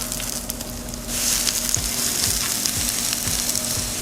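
Onions frying in avocado oil in a pan, a steady close sizzle with crackles that jumps louder about a second in as they hit the hot oil, and a faint low hum underneath.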